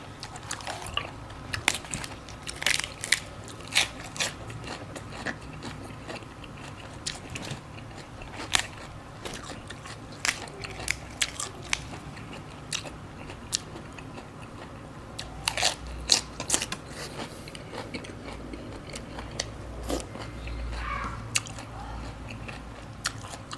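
Giant blood cockles are chewed and bitten close up, giving steady wet crunching with frequent sharp crisp snaps throughout and no talk.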